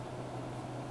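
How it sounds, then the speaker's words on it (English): Steady air conditioner hum running throughout, a constant broadband whir with a low tonal drone, moderately quiet and alone with no voices. "you guys can hear my air conditioner in the background"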